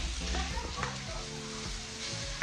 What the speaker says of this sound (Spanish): Lo último que vamos a freír va a ser los chiles, ya que esté blandito y deshaciéndose lo vamos a retirar